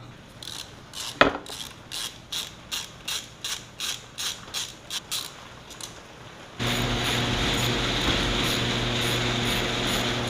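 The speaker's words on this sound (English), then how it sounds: "there is, I think, about 6 bolts all around that you're gonna have to take off, and this whole case should come right off" Ratchet wrench removing bolts from a dirt bike sprocket cover, heard as a rhythmic series of about a dozen close, evenly spaced clicking strokes, then a steadier continuous ratcheting whir to the end, with no talk.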